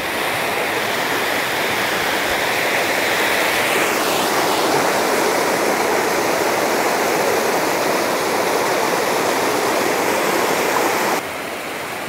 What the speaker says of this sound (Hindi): और आपको ये शोर जो सुनाई दे रही है दोस्तों, ये यहाँ के झरने का है